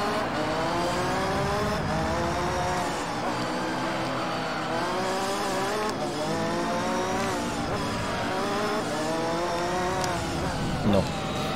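A race car in Gran Turismo 3 brakes and works through a chicane, the engine note repeatedly rising and falling in pitch with downshifts and revs, steady and prominent throughout.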